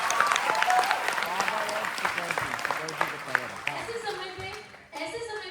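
An audience claps together in sustained applause that thins out toward the end, with voices and cheers mixed in at a network marketing talk.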